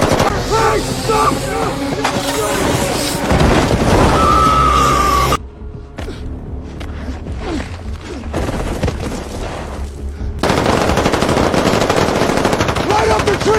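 Loud, dense bursts of machine-gun fire and booms in a chaotic firefight, continuous rapid shots that drop out briefly mid-clip before resuming at full intensity.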